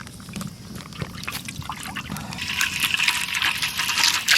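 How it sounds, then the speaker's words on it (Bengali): Cooking oil poured into a hot kadai in a village kitchen, a soft continuous stream that grows brighter and fuller over a few seconds. "আমরা এখন কড়াইতে তেল দিয়ে দেবো।"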